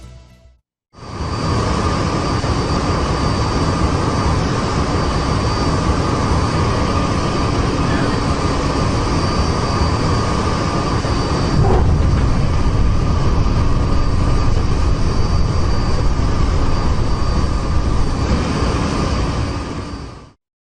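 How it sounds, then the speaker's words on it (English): Loud, sustained roar of a jet aircraft coming in to land, steady for nearly twenty seconds before fading off at the end. "this new plane that is about to land at the"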